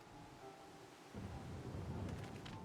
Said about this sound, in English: What unseen lightning begets such thunderous report?